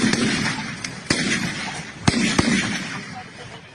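Sharp gunshots crack out in a combat zone during fighting in Biafra, several uneven bursts spaced across a few seconds over a noisy, reverberant background.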